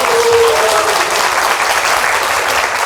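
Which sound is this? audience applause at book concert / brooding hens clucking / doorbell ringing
audience applause at book concert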